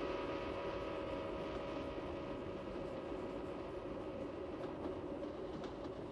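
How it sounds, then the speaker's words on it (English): A train runs alongside the track in a steady, loud, continuous rumble with sustained tonal hum layered over broadband noise for about six seconds, with no talking. "if you're standing alongside the track when the train passes, you hear that familiar shift in pitch"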